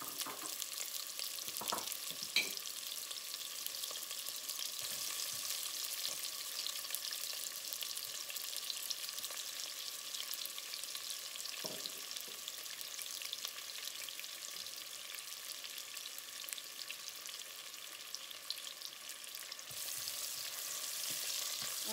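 Sliced onions fry on low heat in a pan, giving a quiet, steady sizzle that runs unbroken throughout, with a few faint taps and scrapes of stirring now and then.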